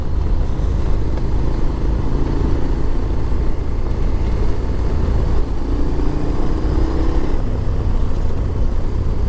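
A dirt bike rides over a dirt trail, its engine a loud, constant rumbling drone mixed with wind buffeting and the crunch of terrain, holding steady with slight swells in pitch.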